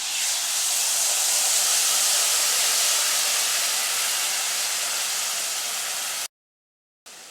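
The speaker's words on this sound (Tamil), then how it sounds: "இப்போ இது நல்லா கொதிக்கட்டும்" Tamarind water with rock salt for puliyodarai comes to a boil in a pan, giving a steady, loud hiss and bubble for about six seconds before cutting out abruptly.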